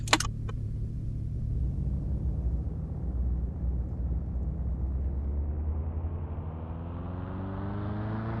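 A car driving in the game Mon Bazou, cutting across yards: a steady, loud engine rumble that holds throughout, with a few clicks at the start and the pitch slowly rising as it speeds up.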